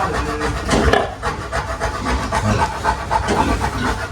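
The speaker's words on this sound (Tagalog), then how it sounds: "Malakas na yung hingal niya." Sow panting heavily during farrowing, rapid rhythmic breaths close by, raspy and continuous.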